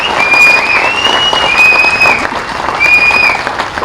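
A large crowd applauds loudly and continuously to approve resolutions at a public gathering, a dense wash of clapping that holds for several seconds, with a thin high tone ringing above it.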